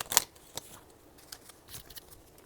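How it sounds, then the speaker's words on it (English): Cards are shuffled by hand in a few quick riffling bursts, soft and close, with short pauses between and no talking. "I'm trying to shuffle so my cards don't get to flying."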